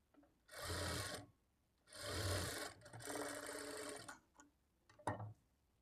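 A sewing machine stitches a blouse seam in three sustained whirring bursts separated by short pauses, ending with a quick mechanical clack, close and clear with no voices.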